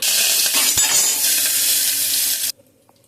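Mustard seeds, cumin and curry leaves hit hot frying oil with a loud, close, hissing sizzle that runs steadily for over two seconds before cutting off abruptly to near silence.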